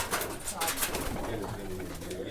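Pigeons coo softly amid a busy, noisy background with rustling and a faint murmur of voices at a Sunday bird market in Lalukhet, Karachi.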